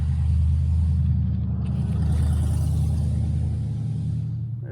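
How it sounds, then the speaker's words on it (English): A nearby idling car with an exhaust leak gives a steady, fairly loud low rumble that drones on without a break, no voices over it. "There's an annoying car that is leaking exhaust."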